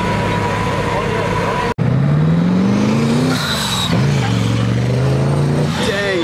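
A Lamborghini Aventador S Roadster with orange brake calipers and a large rear wing accelerates hard at a cars-and-coffee meet. Its loud engine note climbs in pitch, drops briefly and then rises again, with voices from the crowd nearby.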